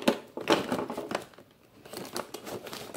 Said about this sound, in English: You need the aluminum foil.